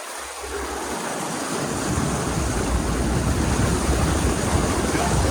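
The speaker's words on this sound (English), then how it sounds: "I can't even believe that we're driving a Jeep Gladiator on water right now." A Jeep Gladiator amphibious truck moves across open water, its floating front tires pushing through the surface in a loud, steady wash of rushing and splashing water mixed with wind noise that swells after the first second.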